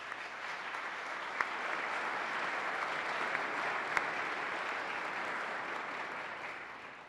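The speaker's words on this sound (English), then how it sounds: "Please join me in a warm round of applause for all of our sponsors." An audience at a City Club forum on climate change claps for the event's sponsors, sustained, fairly soft applause at an even level that tapers slightly at the end, with a couple of sharper single claps standing out.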